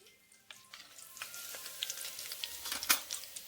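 Chili powder and turmeric stirred in a pan with hot oil, a soft sizzle that builds as a spoon scrapes and breaks up lumps, with repeated light taps and scrapes close by.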